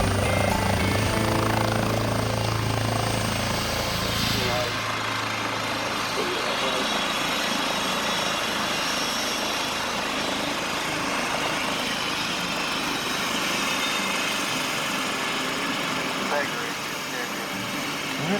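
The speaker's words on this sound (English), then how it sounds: "Helicopter stays hot." A medevac helicopter sits on a ship's deck after landing, its engine and rotors running hot in a loud, steady drone; a deeper low rumble drops away after a few seconds while the high whine carries on, with voices talking underneath.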